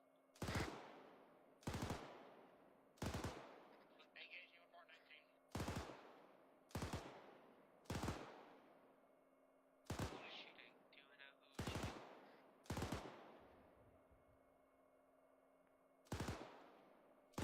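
Tank coaxial machine gun in a tank combat video game: roughly a dozen sharp bursts of fire at uneven intervals over a low steady hum, with faint distant crackle between some of the bursts.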